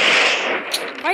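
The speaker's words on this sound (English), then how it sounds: "Why did I shoot that?" A single loud gunshot from the World War Polygon video game, a sharp burst of broadband noise that decays over about a second, followed by a faint brief click near the end.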